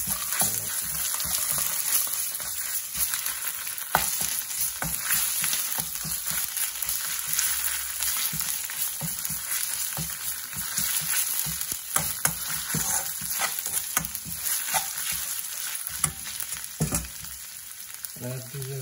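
Tomato paste fries in a pan for saag paneer, a dense, continuous crackling sizzle with frequent scraping strokes of a spoon stirring it, steady and close throughout.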